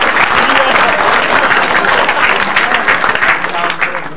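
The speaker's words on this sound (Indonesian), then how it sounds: "Dan kalian tepuk tangan." Audience applause at an Indonesian stand-up comedy show: a dense, continuous burst of clapping from a close crowd that tapers slightly toward the end, with some voices mixed in.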